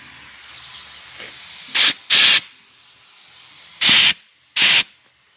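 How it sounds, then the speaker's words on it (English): Compressed air nozzle blasting through a corn planter row unit hitched to a John Deere 8410 tractor, four sharp loud hissing bursts, two close together and then two more after a pause, over a low background drone. "I'll stick the air nozzle in there and see if she comes out the row."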